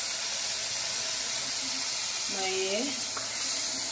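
Washed rice tipped into a pan of toasted garlic, giving a steady bright sizzle throughout with a brief louder hiss and crackle as the grains hit the hot oil, while someone briefly speaks.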